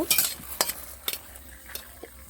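Okra frying lightly in hot oil in a wok: a soft, low sizzle under a few sharp scrapes and stirring clatters of a utensil against the pan, spaced irregularly across two seconds.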